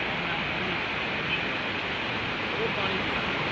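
Steady broadband rush of a waterfall in a mountain valley along the Kullu to Leh road near Solang Valley, Manali, continuous and fairly close with no clear breaks.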